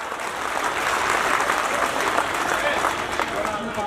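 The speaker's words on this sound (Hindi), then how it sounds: "एक जोरदार ताली और थोड़ा जोरदार ताली बजाइए।" Loud, dense clapping from a large crowd at a political rally in Jharkhand, sustained evenly throughout, with voices and cheers mixed into the roar.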